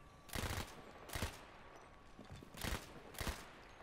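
Four sharp gunshots in Battlefield 1 while shooting an enemy, spaced irregularly and cracking loudly over a quiet background.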